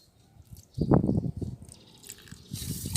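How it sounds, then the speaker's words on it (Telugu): Liquid calcium fertilizer splashes and drips onto a potted plant, a short close pour with wet gurgling bursts followed by faint trickling. "ఈ లిక్విడ్ అనేది కాల్షియం అనేది ఇక్కడ ఈ మొక్కకైతే ఇస్తున్నాను"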